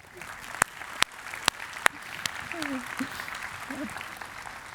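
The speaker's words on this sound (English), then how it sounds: "you should all give yourselves a round of applause" Newly arrived university students at an orientation day applaud themselves, a soft spread of clapping across a hall, with a few sharp close claps near the start and voices murmuring through it.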